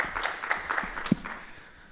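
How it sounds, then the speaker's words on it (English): Brief, modest applause from a conference session audience thanking the speakers, scattered claps ringing out moderately and fading within a couple of seconds. "So round of applause for our speakers."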